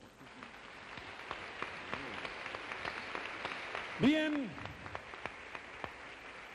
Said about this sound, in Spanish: Dale un aplauso al mejor.